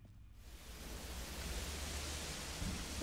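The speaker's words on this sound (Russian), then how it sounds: "Дождь пошел, что ли?" Rain in the video game The Walking Dead: The Final Season, a soft, steady hiss that rises out of near silence and settles into a continuous, even wash of falling water.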